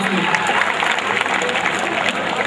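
A crowd at a school talent award ceremony applauds with dense, steady clapping from many hands, loud and continuous throughout the short stretch.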